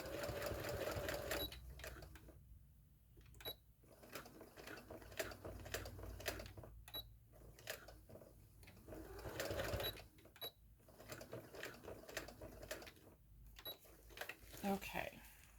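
A sewing machine stitches a soft fabric journal cover, running in several rapid mechanical bursts separated by short pauses as it stitches forward and back, close and clear with a voice talking between runs.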